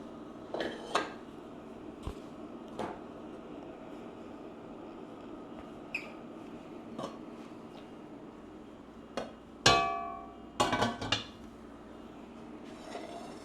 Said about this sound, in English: I'm going to transfer them to their serving bowl